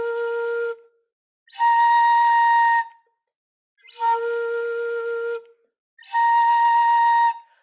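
Shinobue flute played one octave higher with the count-on-one fingering, four sustained bright whistling notes with short breaths between them, loud and close.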